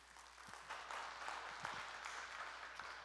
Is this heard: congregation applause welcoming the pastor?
yes